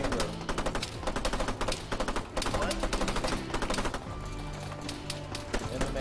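Rapid automatic gunfire in Arma 3 rattles in repeated bursts, loud and close, with a steady background of game noise.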